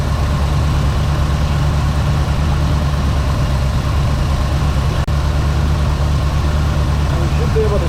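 A 1970 Ford Torino V8, freshly given carburetor work, idles in a steady low rumble close by, with one brief dip partway through and no voices heard.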